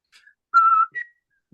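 A person whistles a few short tones: a faint opening chirp, then a loud sustained whistled note followed by a shorter, higher one, alone with no talking.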